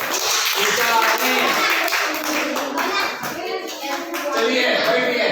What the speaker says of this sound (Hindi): तालियां, तालियां बजाइए।